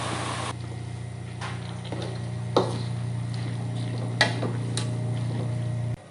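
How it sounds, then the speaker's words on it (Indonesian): A utensil scrapes and clinks against a pan while Mie Aceh noodles are stirred, a few distinct knocks over a steady low hum and faint sizzle. "tambahkan mie, lalu diaduk sampai rata ya"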